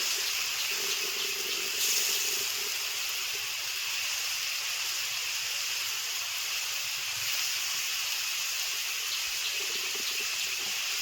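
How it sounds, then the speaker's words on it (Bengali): Water poured into a cooking pan of potatoes for a cabbage dish, a loud, continuous hissing rush of liquid that runs steadily without pause. "এখন দিয়ে দিচ্ছি একটু জল"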